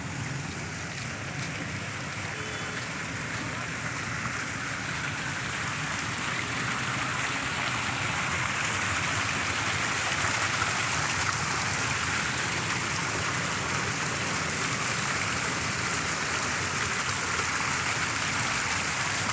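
Waterfalls at the entrance of Mulavagu Bund Park in Vemulawada make a continuous broad rushing roar, steady and enveloping throughout with no pauses and no talking.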